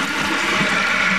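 Water rushing out of a toilet tank fitted with a DIY Coca-Cola bottle bowl cleaner, a steady loud gushing flush with turbulent hiss, heard close up and alone.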